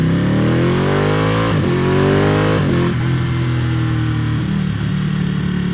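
A Ducati Panigale (899 or 1199S) motorcycle engine revs up and down on the throttle several times, loud, close and continuous with rising and falling pitch, no talking.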